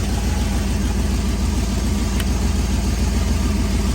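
A 1958 Ford F100 pickup with a bad fan relay idles steadily, a loud, even low rumble with a regular pulse that continues unchanged with no talk.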